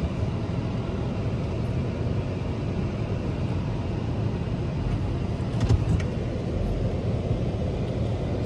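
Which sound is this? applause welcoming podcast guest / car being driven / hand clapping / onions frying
car being driven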